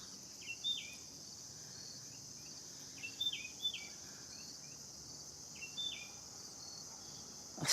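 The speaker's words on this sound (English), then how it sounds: "Hear the birds?" Short bird chirps come in a few scattered bursts over a steady high insect-like hiss outdoors, faint and somewhat distant.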